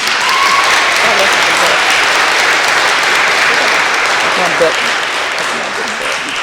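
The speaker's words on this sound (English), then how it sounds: "Let's give another big round of applause to our friends from Glee." Sustained, dense applause from a large audience for Glee performers, a steady wash of clapping from start to finish with faint crowd murmur beneath.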